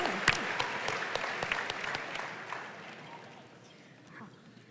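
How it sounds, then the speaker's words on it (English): Audience applause at a New Year health rally, loud clapping from a crowd that gradually thins and fades out over a few seconds, with a faint voice near the end. "Round of applause."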